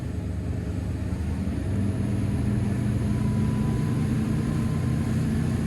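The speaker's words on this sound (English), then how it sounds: "just accelerate her up onto the plane nice and slowly here" A Cranchi M44 HT motor yacht's supercharged engines accelerate toward planing speed: a steady, droning rumble holds throughout at a constant level, loud and close, with no clear rise in pitch.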